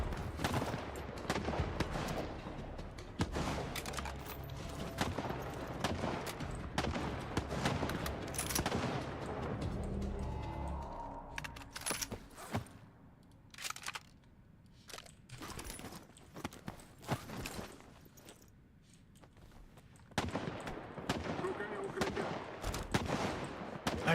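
Dense, loud bursts of automatic gunfire and scattered single shots ring out in a firefight in STALKER 2, with rapid volleys dominating the first half before thinning into sporadic cracks and then picking up again near the end.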